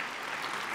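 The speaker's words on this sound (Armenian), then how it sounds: "Ծափահարություններ։" Applause from an audience at a gala concert finale of national dances, a steady dense wash of clapping filling the whole short moment with no voices.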